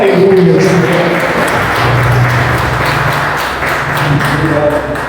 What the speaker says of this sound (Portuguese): Então palmas para Jesus